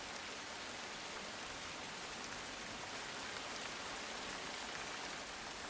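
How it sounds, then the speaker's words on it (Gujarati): Heavy, steady rain pours down on Varachha Road in Surat, a dense unbroken hiss of water on surfaces, fairly distant and even throughout with no voices. "સુરતના વરાછા રોડ પર ધોધમાર વરસાદ વરસ્યો છે."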